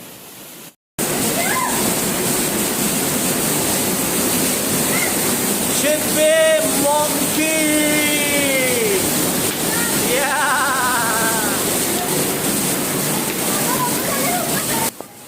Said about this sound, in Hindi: झरने के पास जाने पर हमारे कपड़े गीले हो जाते हैं